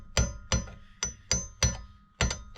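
A hammer strikes a part on a vintage Jacobsen 2-cycle engine, seven sharp metallic blows at an uneven pace, some in quick pairs, close and loud with short ringing decays.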